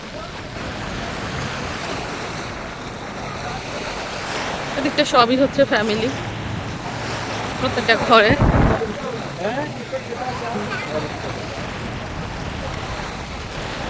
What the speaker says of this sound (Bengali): তবে সাগরের পানি ঠিকই উত্তাল।